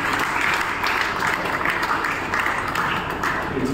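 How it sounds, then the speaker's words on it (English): Sustained audience applause at the inauguration of an art exhibition for persons with disabilities, a steady dense wash of clapping, fairly loud and even throughout, with no talking over it. "I think we also should give a round of applause to Elrin, who is coordinating this."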